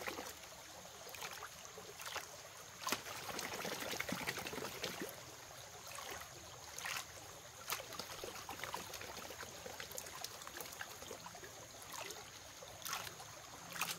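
A gold pan holding heavy black sand is swirled in water for a final finishing pass, giving quiet, continuous sloshing and trickling with faint splashes and no talking.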